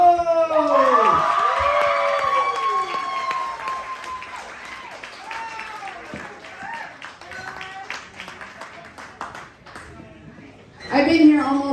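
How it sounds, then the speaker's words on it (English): Applause from a cabaret audience on Creek Street in Ketchikan, greeting comic Tanya Cole at an open mic, mixed with loud whoops and cheering voices, fading to scattered shouts before a final burst of clapping and cheers. "Give me a real big round of applause for Tanya"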